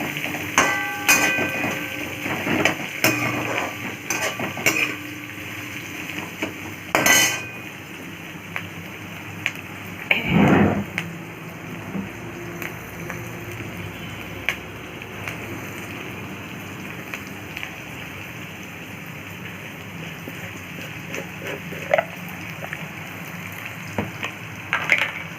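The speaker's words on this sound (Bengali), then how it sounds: "এখন এটা আমি ভাজছি।" Vegetables sizzling in a frying pan, a continuous crackling hiss like rain with scattered sharp taps and clatters of utensils, one louder scrape near the middle, no talking.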